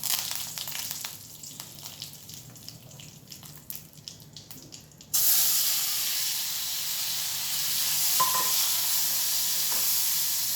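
Curry leaves hit hot oil in a frying pan where bitter gourd is being fried, bursting into a loud, steady broadband sizzle that holds for several seconds after a quieter stretch of faint kitchen clatter.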